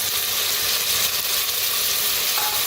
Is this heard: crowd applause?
no